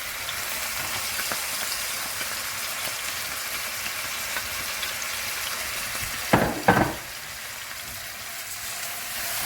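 Onions fry in oil in a pan, giving a steady, soft close sizzle throughout, with two brief louder scraping or stirring bursts near the end and no talking.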